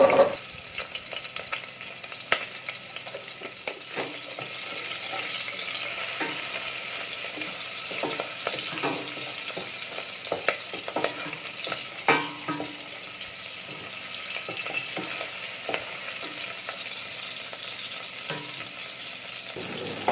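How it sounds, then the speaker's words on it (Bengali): Prawns sizzle and fry steadily in hot oil with onion, a continuous close crackle broken by scraping stirs against the pan, with no talking. "চিংড়ি মাছটা তেলের উপর একটু ভেজে নিচ্ছি।"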